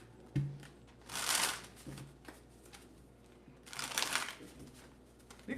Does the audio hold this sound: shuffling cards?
yes